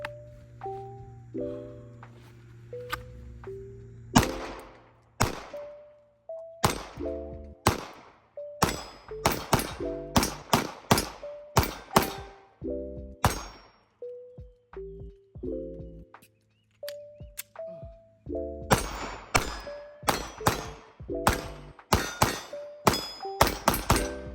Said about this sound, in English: this thing shoots pretty good